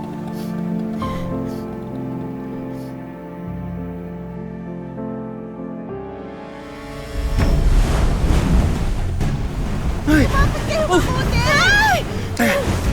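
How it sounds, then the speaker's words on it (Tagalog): Strong sea waves crash in a Filipino radio drama boat scene: after several seconds of sustained music, a loud, continuous roaring surge of surf and wind rushes in and dominates to the end. "Bigla na lang lumakas ang mga alon."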